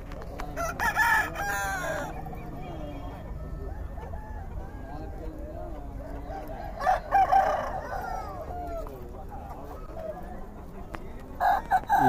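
Roosters crow and hens cluck at a Friday poultry market in Nallapadu, with loud crowing calls near the start, in the middle and at the end over steady low clucking and people talking.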